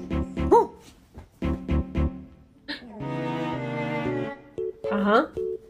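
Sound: dog barking in a played meme clip

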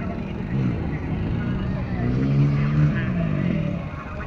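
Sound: KTM 1290 Duke motorcycle doing a wheelie

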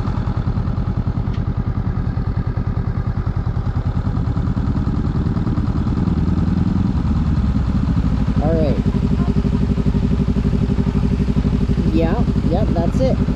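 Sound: motorcycle idling while stopped, clutch held

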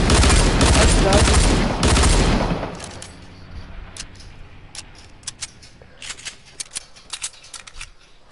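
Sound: gunfire in a video game

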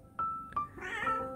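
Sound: cat meowing

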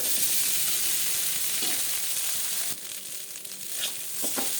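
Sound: frying onion and green chilli for chira poha

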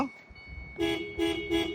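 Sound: car horn honking

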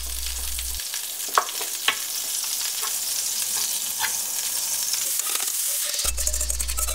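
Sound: frying egg in a square frying pan, rolled omelette style

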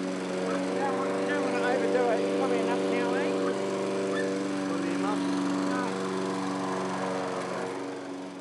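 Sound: lawn mower running

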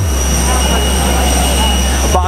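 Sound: jet aircraft on the Gatwick Airport runway

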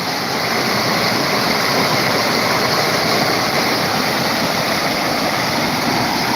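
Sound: stream waterfall flowing in village

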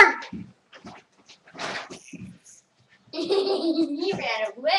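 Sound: dog

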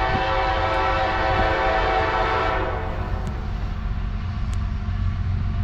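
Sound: CSX manifest freight train M404 passing

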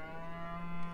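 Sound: cow mooing in the video game Beyond Eyes

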